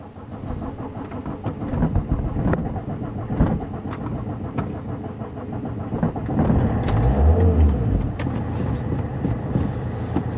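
A car engine cranks and turns over, then settles into a steady mechanical rumble with ticking clatter. The sound is close and fairly loud, carries no speech, and runs continuously for about ten seconds.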